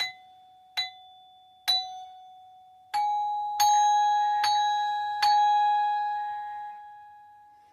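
Seven bright metallic strikes on a 32-note BQKOZFIN glockenspiel ring out one at a time at an uneven pace, each tone sustaining and fading, clear and fairly close.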